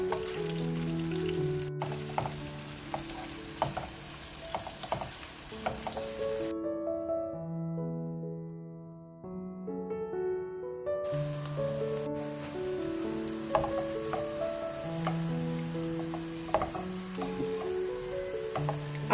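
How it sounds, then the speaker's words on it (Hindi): Onions frying in a hot pan for mushroom keema, a steady crackling sizzle throughout, close and moderately loud, with music playing along and briefly dropping away midway. "यहाँ पे हम प्याज को फ्राई करेंगे।"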